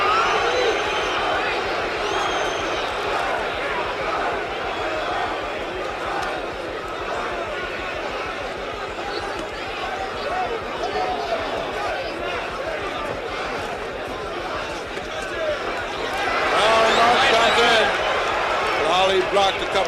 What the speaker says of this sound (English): fans are cheering for Ali